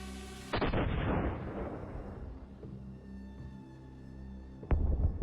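An artillery shell fired at a Russian tank in Donetsk or Kursk: one sharp, heavy blast with a long rumbling decay, then a second loud impact near the end, with no talk.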